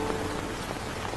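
Steady rain falling during the rainy season, a dense, even hiss of drops on surfaces without a break.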